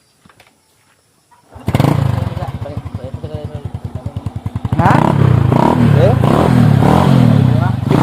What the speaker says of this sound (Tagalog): Ipaandar sana, ipainit sang makina.